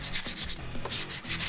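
Brisk hand sanding of an FJ45 car body panel with quick back-and-forth strokes, a rhythmic scratchy rasp repeating about eight times, close and clear with no talking.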